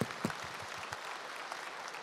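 Applause from a campaign rally crowd at a Democratic Party campaign launch event, a steady dense clatter of many hands that holds evenly throughout at moderate volume, with faint talk beneath.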